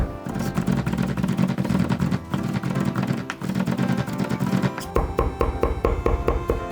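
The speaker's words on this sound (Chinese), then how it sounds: "所以我们尽量还是用这个刀剁的方法" A kitchen knife minces garlic cloves on a board, making fast, rhythmic chopping taps that are close and clear, with a sharper run of distinct strikes toward the end.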